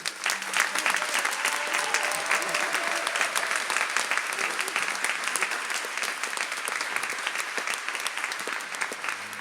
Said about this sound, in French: on peut vraiment l'applaudir doublement